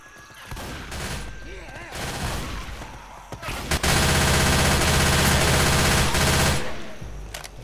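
Gunfire in Left 4 Dead 2 during a zombie-fighting co-op session, with scattered shots followed by a long sustained burst of rapid automatic fire over a dense game soundscape.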